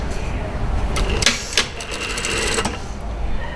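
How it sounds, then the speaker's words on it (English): Sewing machine stitching the underarm seam of a short sleeve with a foldback cuff, a steady close mechanical whir with a few sharp clicks and ticks partway through, running without talk. "So we'll just start with sewing the underarm seam."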